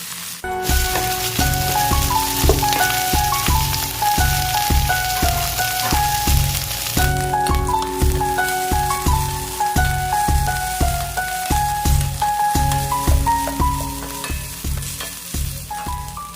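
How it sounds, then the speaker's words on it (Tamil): Curry leaves sautéing with onion and garlic in a pan make a loud, continuous sizzle that runs steadily throughout, with a melodic music track playing underneath. "கருவேப்பிலை போட்டதுக்கப்புறம் நல்லா வதக்கி விடுங்க"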